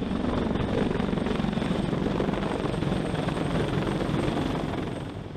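A Sikorsky CH-53K King Stallion heavy-lift helicopter drones steadily and loudly throughout, its dense rotor and engine roar holding even before easing slightly at the very end.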